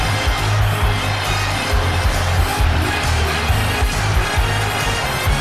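A football video game crowd roars and applauds in a steady wash of noise, with low thumping sounds pulsing underneath throughout, in PES on PS2.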